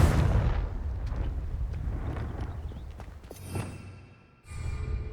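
Fire spell Confringo blasts in Hogwarts Legacy, a loud booming explosion with a sharp burst near the middle and another heavy rumbling impact just before the end, over a dense, busy game background.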